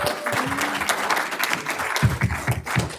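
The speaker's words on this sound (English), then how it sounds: "Let's have one more round of applause." A panel discussion audience at a Shabbat event gives a steady round of applause, moderately loud and filling the room, with a few sharper claps near the end.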